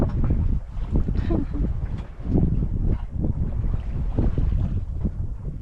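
A sailboat gliding under wind power with no motor running, heard as steady gusty wind buffeting and soft water rushing along the hull, with no engine noise.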